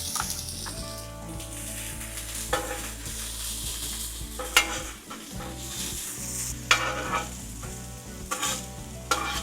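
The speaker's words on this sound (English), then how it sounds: "Along with these peppers here, going to grill up some really thinly sliced onion." Thinly sliced onion and peppers sizzle on an outdoor grill with beef tallow, a steady frying hiss broken by scraping and clinking of a metal utensil stirring the vegetables, close by and without speech.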